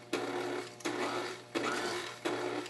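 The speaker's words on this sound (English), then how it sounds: "I do my mixer on and off because it keeps the flour from flying" Electric hand mixer beating oatmeal toffee cookie dough in short on-off bursts, four spurts of steady whirring motor noise, each cut off before the next, close by with no talking.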